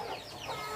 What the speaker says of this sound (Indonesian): Nih ayamnya udah minta mau makan nih.